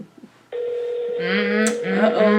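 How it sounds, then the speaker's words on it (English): A telephone call ringing out on the line: after a short pause a steady electronic ringback tone starts and holds, with a faint voice briefly audible near the end. "Wouldn't it be funny if Diamond doesn't answer the phone"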